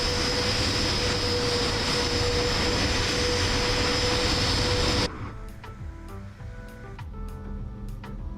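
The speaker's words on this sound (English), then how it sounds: "And there's the airplane coming in." Jet airliner approaching to land at Boston airport, a loud steady broadband engine roar with a constant whine for about five seconds, then cut off abruptly, leaving quieter background with faint clicks.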